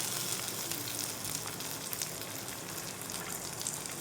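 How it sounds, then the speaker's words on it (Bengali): Chopped tomatoes dropped into hot oil in a frying pan with ginger for a green mung dal curry, giving a steady, soft, even sizzle with fine crackling throughout. "এবার টমেটো কুচি দিয়ে দিলাম।"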